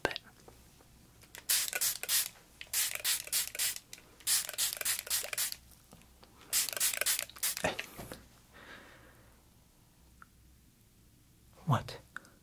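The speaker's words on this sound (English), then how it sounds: "I'm just gonna spray down your hair a little bit." Several bursts of fine hissing spray from a spray bottle onto hair in quick clusters, close and soft, with brief pauses between, followed by a quiet whisper-like sound near the end.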